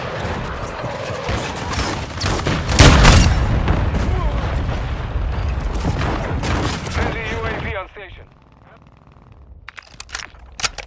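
Grenade blast amid Call of Duty Modern Warfare 2 combat, a loud booming burst within continuous gunfire and shouting soldiers, the chaos dropping away near the end.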